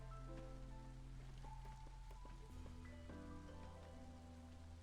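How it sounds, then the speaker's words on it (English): Steady rain falling in the video game Against The Storm, a soft, even wash of patter lying quietly beneath sustained musical tones that shift partway through. "Now I can just kind of sit here and listen to the rain."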